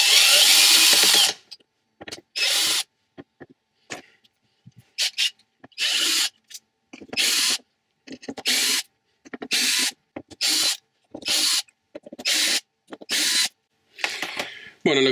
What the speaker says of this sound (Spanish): cuando hayas sacado los tornillos, es de sacar los tornillos con una punta magnética